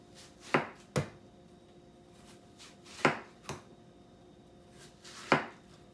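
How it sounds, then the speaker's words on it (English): A knife slicing a watermelon block into half-inch slabs on a board, six crisp thuds in uneven pairs, close and clear against a quiet room. "Now let's slice this block into 1/2-inch slabs."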